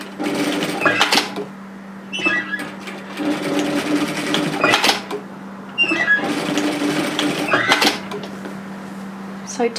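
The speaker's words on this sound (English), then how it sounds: "sew one of these lengths of cording to either end of the elastic" Sewing machine stitching lengths of cording onto the ends of elastic for a bomber-style varsity jacket, running in several short bursts with brief pauses between them, close and moderately loud.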